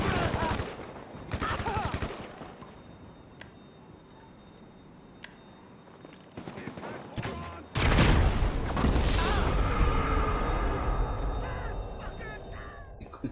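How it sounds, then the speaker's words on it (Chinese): Gunfire in GTA V Online during a Pacific Standard bank heist, with scattered sharp shots early on and a dense, loud burst of rapid fire in the second half. "那看到我就开枪了"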